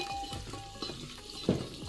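Chopped garlic and green chillies fry in a pan, a steady close sizzle with intermittent stirring scrapes and a sharper clack of the spoon near the end.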